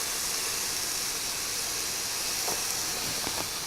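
A hamburger steak with onions fries in a pan, giving a loud, dense, unbroken hiss from start to finish, with a few faint clicks near the end.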